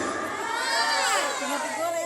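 The audience at a primary-school quiz competition final in Padang cheers loudly, with excited children shouting and whooping together in a sustained roar of crowd noise.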